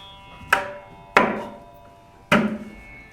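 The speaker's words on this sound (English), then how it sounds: "there are other strokes that are, they don't produce pitches, but they sound more muted, and those are these strokes." Three separate muted, unpitched strokes on a mridangam, evenly spaced and close, each a dry slap that fades quickly, with no voices.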